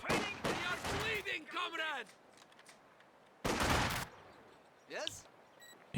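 Machine gun bursts from the Company of Heroes 2 real-time strategy game, a rapid crackling volley early on, another loud burst a few seconds later and a brief one near the end, with quieter battlefield ambience between.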